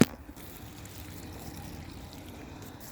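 Water poured steadily onto garden soil over freshly buried sweet potato slips in a backyard bed, a faint continuous trickle and soak with no voices.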